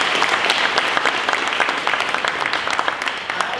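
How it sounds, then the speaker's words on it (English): A breakfast crowd at the 2019 South Pasadena Mayors Breakfast applauds Mayor Eric Garcetti, with thick, close, sustained clapping throughout the brief burst. "So let's give you a big round of applause."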